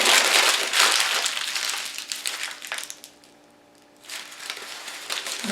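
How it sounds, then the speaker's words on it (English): A paper bag being crumpled by hand as practice for an acrylic painting lesson, with dense crinkling and crushing rustles that pause briefly midway, then resume close up with no talking. "And then you take it all apart and then you crumple it again."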